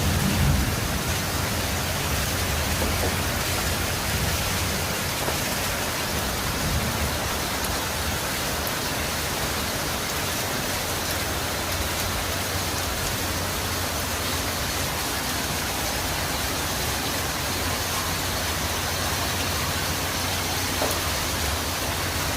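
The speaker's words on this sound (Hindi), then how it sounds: "आज बहुत बारिश हो रही है" Heavy torrential rain pours down in Lahore as a loud, dense, unbroken hiss that holds steady for the whole stretch, with no voices heard.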